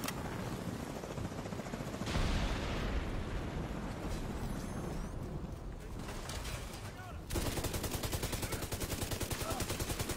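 An automatic gun fires in the shooter game Division 2 with a dense, unbroken stream of loud shots. The rattle gets heavier and sharper near the end.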